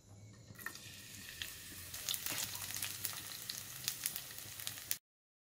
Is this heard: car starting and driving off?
no